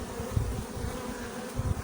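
A honeybee colony buzzes densely and continuously at close range while a hive is opened for inspection, the swarm drone rising and falling with individual bees passing near.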